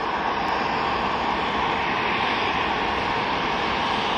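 A loud, steady engine roar with a broad rushing whine fills the scene continuously from the Marine One helicopter running nearby at the Ellipse in Washington.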